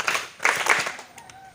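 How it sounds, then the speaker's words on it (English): Schoolchildren in a classroom during a computer practical lesson clap briefly, a short burst of scattered hand claps in two quick waves that thin out within about a second and a half. "Let's clap for ourselves."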